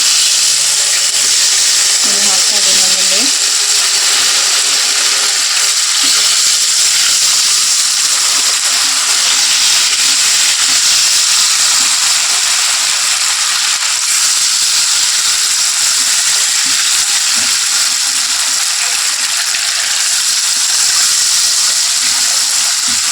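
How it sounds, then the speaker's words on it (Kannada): Potato pakoda deep fry in hot oil, giving a loud, steady, dense hiss and sizzle that fills the whole stretch close up, with a few faint clinks and a voice briefly under the noise. "ಇಲ್ಲಿ ನೋಡಿ ನಾನು ಎಣ್ಣೆ ಬಿಸಿ ಮಾಡೋಕೆ ಇಟ್ಟಿದ್ದೀನಿ ಡೀಪ್ ಫ್ರೈ ಮಾಡೋತ್ತಿದ್ದು ನೋಡಿ ಚೆನ್ನಾಗಿ ಬಿಸಿ ಆಗಿಬಿಟ್ಟಿದೆ"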